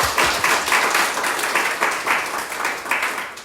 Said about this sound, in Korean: 주님께 다시 한번 영광의 박수 올려드리겠습니다